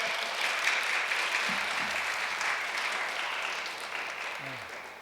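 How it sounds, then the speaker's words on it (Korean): Large audience at a church blessing festival in Seoul giving big welcoming applause for a speaker, a dense, steady roar of clapping that holds evenly throughout and fades slightly toward the end. "큰 박수로 모시겠습니다."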